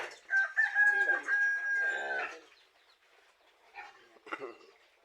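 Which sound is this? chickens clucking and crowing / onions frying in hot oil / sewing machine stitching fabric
chickens clucking and crowing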